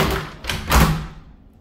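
Frosted glass doors to a hotel bathroom at the Taj Dubai closing, giving two soft thuds close by with no talk.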